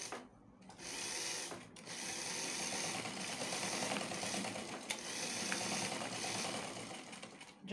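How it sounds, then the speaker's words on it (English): A sewing machine stitches a pocket onto trousers with a fast, steady mechanical clatter heard up close, running almost continuously with only brief pauses and no talk. "you just make a small sewing here to hold this pocket to hold your trouser to this pocket fabric."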